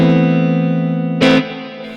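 An electric guitar chord rings through a Mooer preamp set with distortion and delay, sustaining heavily before a sharp pick attack or new strum near the end, then a fading delayed tail.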